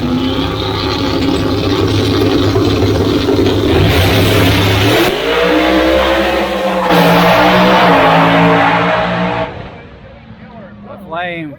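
Drag racing cars roar down the strip at a motorsports park nationals event. Loud, continuous engine noise surges and shifts pitch as they accelerate, an announcer talks over it, and the roar fades away at the end.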